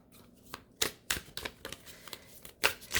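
Tarot cards shuffled and drawn by hand, sharp papery riffles and slaps in irregular bursts, close up, with no talking over them.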